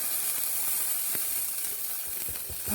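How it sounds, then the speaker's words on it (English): Homemade country soup with potatoes simmers in a pot, giving a steady soft hiss with faint scattered bubbling ticks throughout, close by and without talk. "We're just going to let our soup simmer down and cook now"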